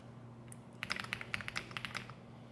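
Quiet keystrokes on a computer keyboard come in a quick irregular burst of sharp clicks, close and isolated, over a low steady hum.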